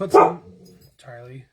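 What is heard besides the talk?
dog barking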